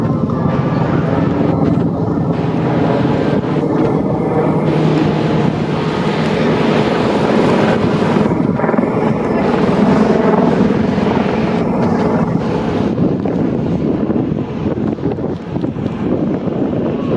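Beta aircraft taking off at the Paris Air Show at Le Bourget, a loud sustained engine roar with wind buffeting the microphone, steady throughout and close by.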